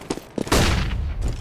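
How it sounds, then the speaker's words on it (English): A flashbang grenade goes off in the video game CS:GO as a sudden, loud broadband bang with a sustained ringing wash, following a couple of short clicks. "I'm throwing a flashbang."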